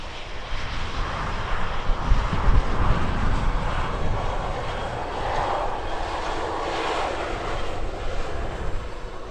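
A jet airliner fitted with clamshell thrust reversers roars nearby during sunrise plane spotting, a loud sustained engine rumble that swells and then holds steady, with no voices.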